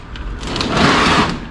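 A drawer full of old automotive tuning devices sliding open or shut, one close rumbling slide that swells and fades over about a second, with no voices.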